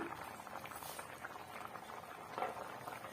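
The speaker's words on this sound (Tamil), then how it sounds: "இது நல்லா வந்து கொதிச்சு வரட்டும்" Quiet, steady bubbling of liquid boiling in a covered pot, with soft popping and gentle simmering throughout.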